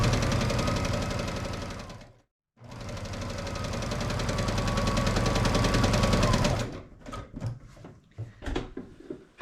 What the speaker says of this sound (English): And just continue sewing. This is referred to as chain piecing.